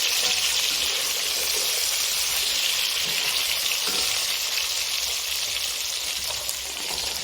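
Beef, eggplant and freshly added carrots sizzle and crackle steadily in a hot pan for a beef stew, a dense, even frying hiss that runs without a break and with no voices.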